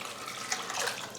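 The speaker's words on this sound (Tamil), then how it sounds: "இப்போ பருப்பு வேகிறதுக்காக தண்ணி சேர்த்துக்கலாம்." Water poured from a tap into a pressure cooker holding lentils and chopped tomatoes for cooking, a brief steady splashing and trickling at close range.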